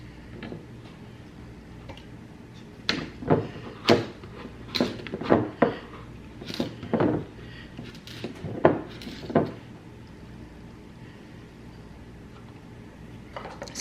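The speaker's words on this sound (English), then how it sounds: "So just mix the sugar and the butter together." Butter and sugar get stirred together in a bowl, a utensil scraping and tapping against the sides in uneven knocks and clicks, close and fairly quiet with no talking.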